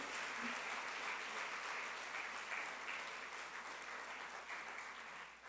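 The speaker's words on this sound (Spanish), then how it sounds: "¿Cuánto le damos un aplauso al Señor?" Sustained applause from a church congregation during a Sunday sermon, a steady, even wash of clapping filling the room throughout with no voices standing out.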